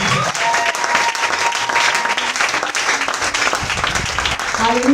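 A church congregation applauds, a dense steady burst of clapping lasting the whole moment, with voices and cheers mixed in underneath.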